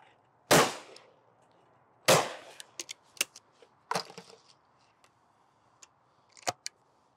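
A game shotgun fired at clay targets outdoors, two sharp loud blasts a second and a half apart with decaying tails, followed by fainter clicks and knocks of gun handling.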